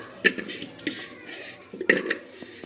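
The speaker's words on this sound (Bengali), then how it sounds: "আমি এখানে লাল আলুটা দিয়ে দিচ্ছি আগে" Red potato pieces are dropped into a metal pressure cooker, producing several sharp clinks and clatters of potato and utensil against the pot, close and fairly loud in a quiet kitchen, with no talking.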